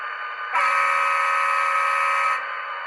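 An ESU sound decoder in a Scale Trains SD45 model locomotive sounds one steady, buzzy electronic horn blast of roughly two seconds, close and loud, with no other sound around it.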